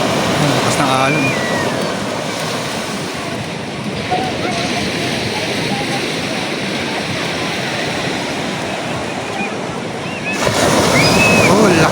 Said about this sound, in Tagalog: Dagundong ang alon.